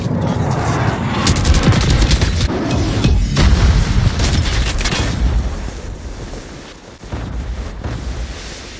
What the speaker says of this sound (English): Friendly napalm deployed.